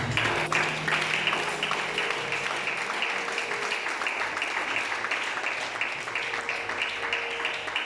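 A church congregation claps together in sustained, fairly loud applause, a steady patter with faint murmuring voices mixed underneath.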